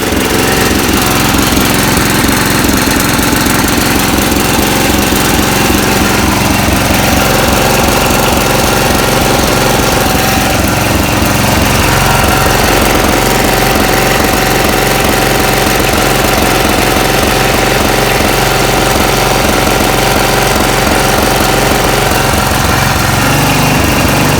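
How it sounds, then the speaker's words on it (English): A lawn mower engine, its bowl carburetor fixed of a fuel leak, runs loud and close without pause, a harsh, rattling drone that stays steady throughout. "the lawnmower's working great now, no leaking"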